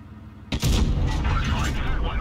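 A tank cannon fires in World of Tanks Blitz as a T110E5 battle plays out, one sudden loud boom whose rumbling, crackling tail rolls on for over a second, with someone talking underneath.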